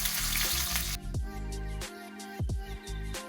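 Cashews and raisins fry in ghee for rava kesari, starting with a loud, close sizzle that quickly settles into a softer crackle over steady tonal background sound.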